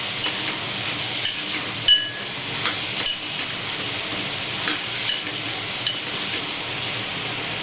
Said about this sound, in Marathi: आता याला खूप छान परतून घ्यायचं आहे।